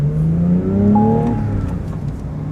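A Porsche GT3 prepared by Manthey Racing revs close by, a loud, rising engine note with shifting harmonics that climbs and then settles into a steady drone.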